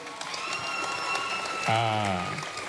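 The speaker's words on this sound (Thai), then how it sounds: "ขอเสียงปรบมือ" Steady applause from a concert audience, moderately loud, with a voice starting to speak over it near the end.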